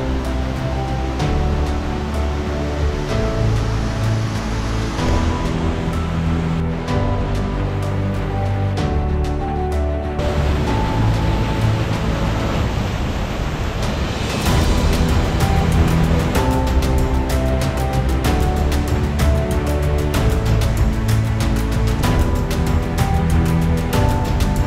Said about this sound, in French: On est arrivé. arrivé à la dernière cascade de notre petite boucle de la journée.